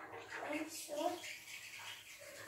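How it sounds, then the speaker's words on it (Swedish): A shower is turned on and water runs with a soft, steady hiss and splash at moderate distance, while a voice murmurs faintly underneath. "Du bara in i duschen. Och sen så sätter du på den."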